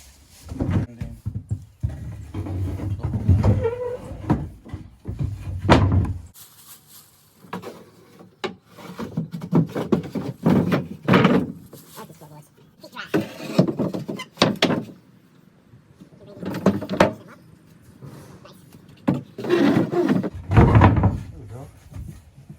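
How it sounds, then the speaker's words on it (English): Wooden floorboards are set back into an O'Day Daysailer sailing dinghy, with bursts of rubbing, scraping and knocking as boards slide into place, close by, separated by quiet gaps and a few spoken words. "I'm gonna put the floorboards back in."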